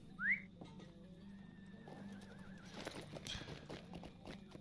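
A horse ridden as the Steed of the White City in Lord of the Rings Online gives a short whinny, followed by soft, steady clip-clopping hooves under a faint whistling tone.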